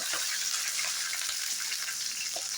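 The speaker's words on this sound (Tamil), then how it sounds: "கடுகு பிடிச்சிருச்சுங்க இப்போ போட்டு வதக்குங்க" Greens frying in hot oil with mustard seeds, a steady close hiss and spatter of sizzling that runs on without pause and without talk.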